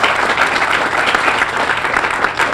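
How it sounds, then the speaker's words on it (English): Audience applause at a harbor North Terminal ribbon-cutting ceremony, a dense, steady wash of many hands clapping that stays loud for the whole stretch without a break. "please raise your hand and get a huge round of applause"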